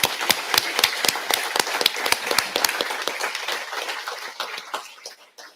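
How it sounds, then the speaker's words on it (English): Audience applause for volunteer award finalists at a ceremony, a sharp, rhythmic run of near claps over a softer crowd of hands that gradually thins and fades out. "So let's give them all a round of applause."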